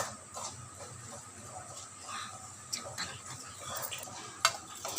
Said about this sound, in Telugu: పప్పు ఉప్పు అన్నీ తక్కువ రాకుండా కొంచెం కలుపుకోండి అలా అలా అలా తిప్పుకొని